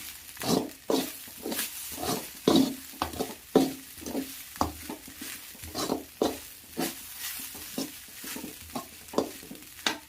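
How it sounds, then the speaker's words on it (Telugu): Vegetables sizzle in a hot pan with a splash of soy sauce for veg fried rice, stirred in a steady run of scraping, clattering strokes that repeat every half second or so over a soft frying hiss. "మనము దీన్ని కొద్దిగా ఇలా ఫ్రై చేసుకోవాలి"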